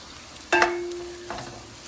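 Minced meat dropped into a hot pan over fried onion and garlic, bursting into a sudden loud sizzle with a stirring scrape, then settling into a steady frying hiss with a second brief stir.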